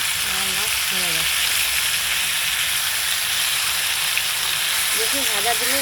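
Bhola fish fillets sizzling in hot oil, a steady loud frying hiss throughout, with a voice briefly talking over it near the start and end.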